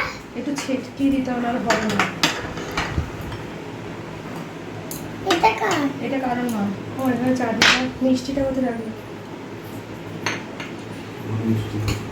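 Plates and steel dishes clatter and clink while a home meal of white rice and side dishes is served for the Jamai Shashthi feast, scattered knocks recurring through the clip under steady nearby conversation.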